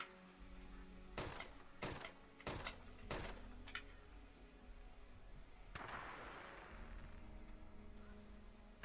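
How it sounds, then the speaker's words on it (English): Fallout 76 gunfire: four quick sharp shots in a row, followed moments later by a softer burst of explosion noise that fades out. "So, few exploded there, one exploded there, and one randomly exploded over there."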